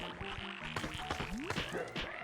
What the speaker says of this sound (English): Boy, those frogs are just coming at me.